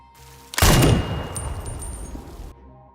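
A gunshot from an enemy sniper in a war film cracks out sharply and loudly, then a rumbling echo tails off for about two seconds before cutting to silence.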